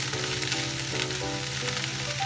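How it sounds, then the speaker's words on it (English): Onions frying in a low-burn-point oil in a pan for French onion soup, a steady dense sizzle running the whole time with faint stirring scrapes, close and fairly loud, no talking. "We're going to put all of our onions in."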